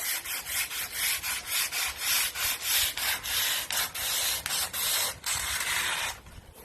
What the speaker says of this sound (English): we've done all the sanding now